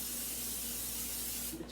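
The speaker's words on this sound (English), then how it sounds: "Let me get the spray. I'm just gonna spray put some spray on here." Cooking spray hisses from a can onto a glass container in a home kitchen, one steady, close spray that runs almost two seconds and then cuts off, with no voices.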